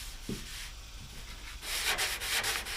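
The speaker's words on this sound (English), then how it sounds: "you can sand these curved areas maybe a little bit more precise than a block" Hand-held sandpaper rubs over curved body panels of a 1977 Malibu Classic, giving a short dry scratch, then a louder, faster run of close rasping strokes.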